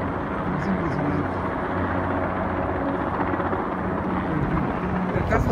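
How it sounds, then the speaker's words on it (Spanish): A helicopter flies overhead on a winter visit to Chicago, its rotor thumping as a steady low drone that holds loud and constant while people talk beneath it. "El helicóptero."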